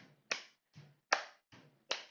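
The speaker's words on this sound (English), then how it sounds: "We're going to do a step clap." Five sharp hand claps spaced about every 0.4 seconds during a step-clap movement exercise, alternating stronger and softer, close and alone with no talking.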